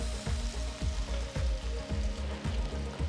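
Ground masala paste cooking on a low flame, a close, dense bubbling sizzle with regular thick pops and spatters repeating about every half second, no voices.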